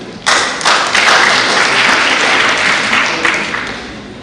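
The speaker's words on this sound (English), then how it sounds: "please clap for him." Audience applause at a youth public speaking competition, a dense sustained wash of many hands clapping that starts abruptly and holds steady for several seconds.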